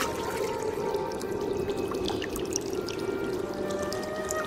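Spring water rises out of the ground and flows in a steady, close, continuous wash and gurgle, with small bright splashes scattered through it.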